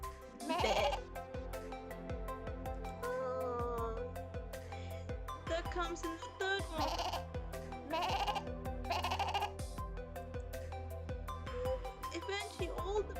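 Sheep in the video game Punishing: Gray Raven give repeated short bleats over a gentle lullaby-like musical backing, while a person talks quietly beneath for a moment.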